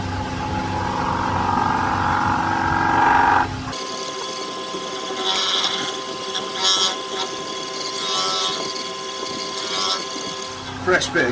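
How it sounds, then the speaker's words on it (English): Wood lathe spinning fast at around 1300 to 1400 rpm while a tornado bowl is polished with cloth, a steady whirring hum with rising rhythmic swishes and faint knocking as the warping bowl turns, running throughout with a shift in tone partway. "Lathe quite fast when I do my last one. Got 12, 1300 revs, nearly 14 actually."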